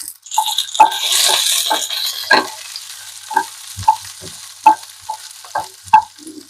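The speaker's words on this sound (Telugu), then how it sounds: "ఇదే టైంలో పల్లీలు కూడా వేస్తున్నా వీటితో పాటు పల్లీలు కూడా వేగుతాయండి" Peanuts, urad dal and chana dal dry-roasting in a pan for a peanut chutney, a rattling scatter of small dry knocks and scrapes as they are stirred, fairly close and without talk.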